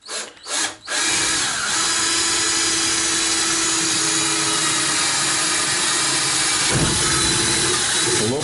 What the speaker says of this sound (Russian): Лобзиком сейчас будем вырезать потолок